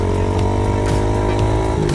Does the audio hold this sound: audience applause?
no